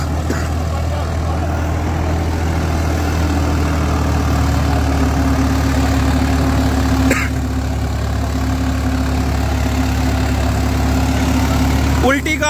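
A Swaraj 742 XT tractor with an 8-foot rotavator sits idling, a steady low diesel rumble throughout with a faint voice nearby and a brief clatter near the end.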